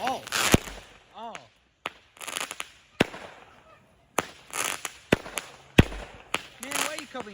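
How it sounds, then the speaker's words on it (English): Fourth of July fireworks bursting in a loud, irregular series of sharp booms and crackles, some close and some farther off, with excited voices talking and reacting between the blasts. "Every fireworks is full of surprises."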